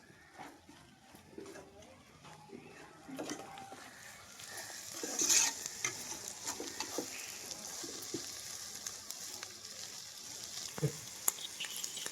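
Spice powder fries in a pan for a curry cooked for children, a soft uneven sizzle with scraping stirs and a few sharp clinks, fairly close and moderately loud.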